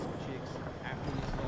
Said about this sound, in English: Yeah, they got an enemy helicopter.